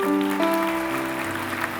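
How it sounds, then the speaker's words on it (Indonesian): Church congregation applause during a sermon, a broad wash of clapping mixed with sustained organ or keyboard tones and murmuring, fairly loud and even throughout. "Beri tepuk tangan bagi Tuhan."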